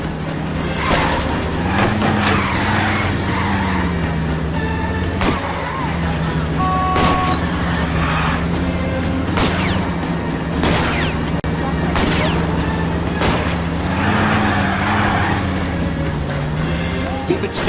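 A car chase in the video game L.A. Noire, with a steady droning engine and tire noise under a dense game mix, sharp bangs and crashes punctuating it, and voices speaking over the action.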